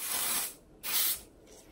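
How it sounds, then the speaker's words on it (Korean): Hair spray hisses onto sectioned hair while a flight-attendant-style bun is being styled, two separate airy bursts with a short pause between, close and steady. "나눠서 스프레이를"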